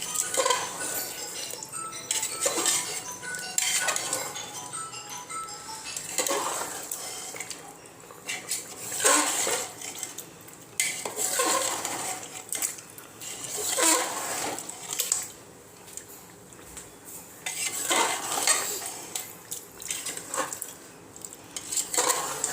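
Spoon on metal pan, stirring yogurt into chicken bhuna over a low flame: continuous scraping, clinking and wet churning in repeated surges, close and fairly loud, with a faint sizzle underneath.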